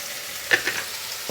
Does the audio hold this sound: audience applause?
no